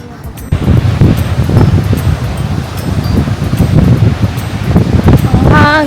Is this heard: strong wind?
yes